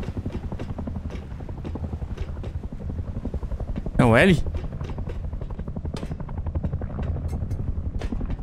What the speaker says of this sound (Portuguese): Um helicóptero vindo.